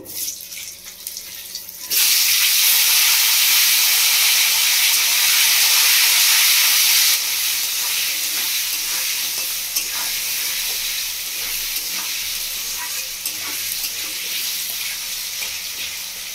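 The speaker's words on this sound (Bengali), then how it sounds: "এবার আমি কেটে ধুয়ে রাখা ছোট নতুন আলুগুলো ভেজে নেব" Small, cut and washed new potatoes drop into hot oil already seasoned with dried chilli and five-spice, bursting into a loud, dense sizzle that eases to a steadier crackling hiss, with faint stirring, close and without talk.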